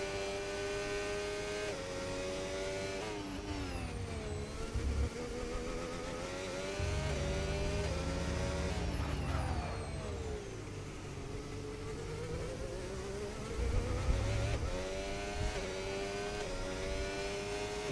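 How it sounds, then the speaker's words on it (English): A McLaren racing car lapping the COTA circuit in a racing video game, its engine a continuous high whine that rises and falls through the gears. Pitch sweeps up and dips repeatedly through the corners, steady and close with no talk. "Little Flav's just going around doing a few laps"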